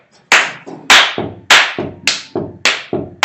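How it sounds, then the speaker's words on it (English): A class claps a steady beat together, six sharp, evenly spaced claps ringing out loud and close with no talking. "we're just going to be clapping"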